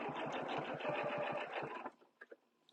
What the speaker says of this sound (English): sew your half circle